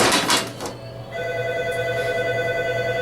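A telephone rings indoors with a steady electronic trill, sounding loud and continuous for several seconds after a brief burst of noise at the start.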